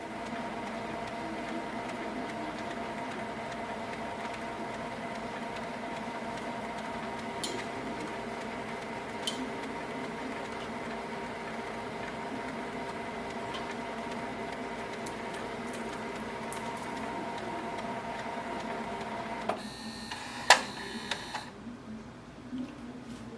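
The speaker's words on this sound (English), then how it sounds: "Once the printer starts its cycle to flush the ink, you will hear a sound from the printer." A Canon Maxify GX3020 inkjet printer running an ink flush cycle for clogged nozzles, giving a steady mechanical hum with faint periodic clicks, ending in a few sharper clicks and a brief whir as the cycle stops.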